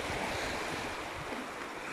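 Sea waves wash steadily onto the beach at Dawlish Warren on a calm early morning, a continuous soft roar of surf with light wind rustle on the microphone and no voices.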